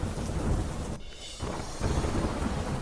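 Heavy, continuous rain in Tenkasi district, Tamil Nadu, a loud steady roar of downpour with a brief dip in the middle, with no voices.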